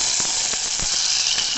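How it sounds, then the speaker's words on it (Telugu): Hot tempering of crushed garlic, cumin, fenugreek seeds and curry leaves poured into spinach dal gives a close, steady sizzling hiss with a few soft crackles. "నెక్స్ట్ ఈ తాలింపుని పప్పులో వేసుకొని"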